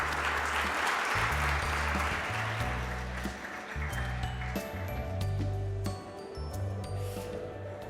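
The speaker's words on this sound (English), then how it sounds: "Please give him a round of applause" Conference audience applauds a speaker about to give a Bitcoin talk at MCC 2019, a broad steady wash of clapping lasting throughout, fairly loud with low rumbling hall noise beneath.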